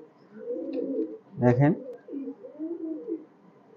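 A pair of high-flyer pigeons coo in low, rolling murmurs, close by, while someone speaks briefly over them.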